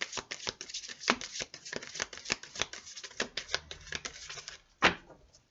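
Tarot cards shuffled by hand in a dense run of quick riffling flicks and soft slaps, close and fairly quiet, with a sharper snap near the end and no talking.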